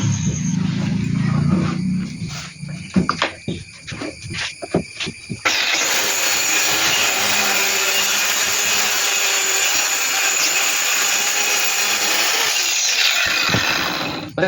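A saw cuts along the edge of wooden planks. A few seconds of uneven, rhythmic cutting strokes give way to a loud, continuous rasping cut that holds to the end, close up, with no talking.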